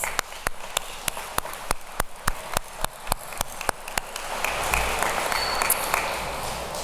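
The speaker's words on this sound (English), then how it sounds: "So give yourselves another round of applause." Brief scattered hand claps at a Phi Theta Kappa induction ceremony, a dozen or so sharp isolated claps in a loose rhythm, then a steadier wash of crowd noise that swells toward the end.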